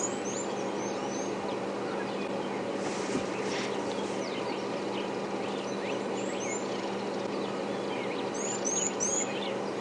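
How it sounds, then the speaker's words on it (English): Tiny, very high-pitched calls of blue waxbills come in brief clusters, faint over a steady bush ambience of insects and a low vehicle hum during a morning safari drive at Djuma Game Reserve. "you might also be able to hear a very high-pitched little blue waxbills"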